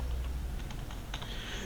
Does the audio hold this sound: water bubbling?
no